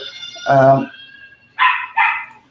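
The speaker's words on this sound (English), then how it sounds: "See, I have this puppy in my life." A puppy gives a few sharp yips and barks with pauses between them. They sit close and fairly loud, and a person's voice comes in briefly between the barks.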